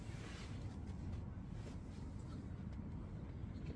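Wind blowing steadily across a lake on a fishing farm, a constant low rumbling buffet on the microphone, faint and unbroken throughout.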